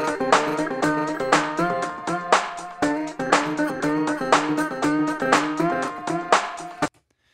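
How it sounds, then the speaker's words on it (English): Electric guitar played through Logic's tape delay at default settings, a steady strummed rhythmic pattern with echoing repeats blending into each stroke, loud and close, cutting off abruptly at the end. "I'm going to use Logic's tape delay because that's one of my personal favourites."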